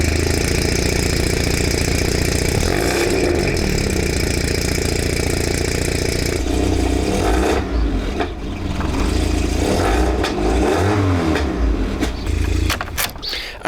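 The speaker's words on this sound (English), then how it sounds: "Let's just do a quick little cold start then," A VW Golf MK2 GTI engine cold-starts after a rebuild and is revved, loud and close, with a steady roar that shifts to a rougher, uneven idle and blips partway through.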